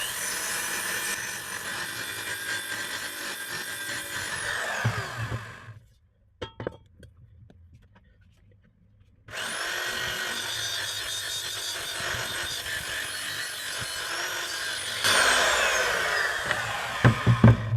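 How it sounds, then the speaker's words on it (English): A power tool scours paint off steel to leave bare metal for welding, giving a loud, steady high-pitched grinding whine that stops for a few seconds, then starts again and runs on, close up and without speech. "So if we clean all that fresh clean steel, get all the paint off, then obviously it's going to be better for welding."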